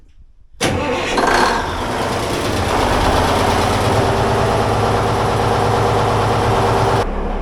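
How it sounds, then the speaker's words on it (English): A boat engine cranks and catches abruptly, then settles into a loud, steady idle with a rough low throb that runs until it cuts off near the end. "let's get the engine fired up and get these lines bled"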